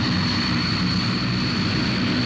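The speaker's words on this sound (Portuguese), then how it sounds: "Os Antonov AN-32 indo embora." An Antonov An-32 turboprop transport aircraft departs, its engines roaring in a steady, loud, dense drone with a high whine on top, close by and unbroken, with no voices.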